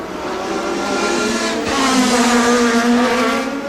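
Toyota Atlantic open-wheel race cars at the 1990 Toronto street circuit scream past, a sustained high engine note rising in pitch as one car closes in and passes, loud and near with no voices.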